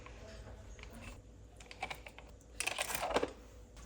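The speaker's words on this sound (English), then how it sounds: "And then whisk this until" Double cream is whisked by hand in a bowl, quiet irregular clicks and taps that build into a quicker, louder burst of rattling strokes toward the end.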